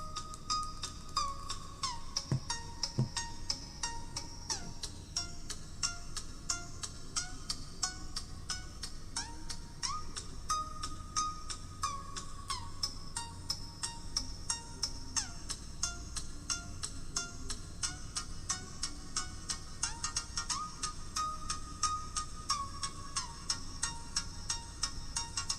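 Music plays through the small built-in speaker of an iwo W26 Plus smartwatch, a thin, faint and tinny melody running steadily throughout with no voices over it.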